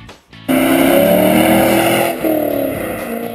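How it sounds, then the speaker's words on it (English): A 2003 Chevrolet C5 Corvette V8 runs loud and close, its engine note rising steadily before a brief dip and a second climb, with no talking. "2003, Chevrolet C5 Corvette."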